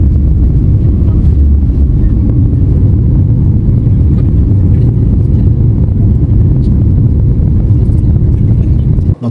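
A passenger jet flies from Hyderabad to Delhi, heard from inside the cabin as a loud, steady low engine drone that stays constant throughout.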